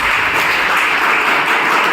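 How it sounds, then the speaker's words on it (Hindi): An audience at a career counseling event applauds, a brief, steady patter of many hands clapping together, moderately loud and even throughout. "तालियां बजाएं इनके लिए"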